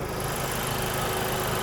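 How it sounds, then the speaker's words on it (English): The 2-liter turbocharged engine of a 2023 Honda Civic Type R with a six-speed manual runs with a loud, steady, even drone and a faint whine layered on top. The sound is unbroken and there is no talking. "this engine, this 2-liter turbo from Honda"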